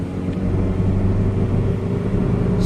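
A 1993 Mazda B2600 4x4 truck with an aftermarket exhaust climbs through third gear, giving a deep steady rumble that holds at an even, loud level from start to finish.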